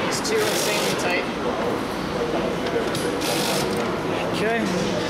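A ratchet tightens bolts on a BMW valve cover in quick bursts of clicking, close by and partly masked by someone talking and shop background noise.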